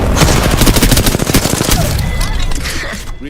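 Smart bullets firing in a video game, a loud rapid stream of shots packed close together that thins out near the end, with a voice briefly over it.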